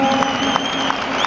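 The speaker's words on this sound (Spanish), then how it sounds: "El aplauso también para Rubén García" Crowd applause after a Spanish championship boxing bout won by technical knockout, a brief close burst of clapping with a few sharper accents and faint crowd noise underneath.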